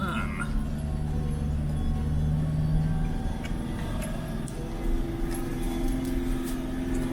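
A car drives slowly over a rough, steep, winding dirt track in hill country, its engine hum steady and close with a continuous low rumble. Bumps and rattles come through now and then, and voices talk over it.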